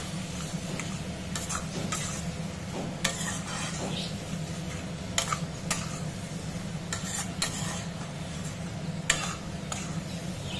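Crab curry stir-fried with ground garam masala in a pan, a low, steady sizzle with repeated light scraping and clinking of a utensil against the pot throughout.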